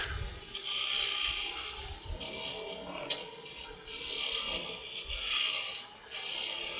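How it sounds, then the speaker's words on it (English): A roughing gouge cuts into spinning wood on a lathe while a snowman is turned, giving continuous raspy scraping passes in several bursts with short pauses between, close and fairly loud. "do a really quick thing with my roughing gouge"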